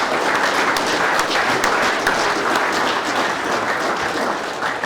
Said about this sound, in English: So round of applause for Travis Lynn, please.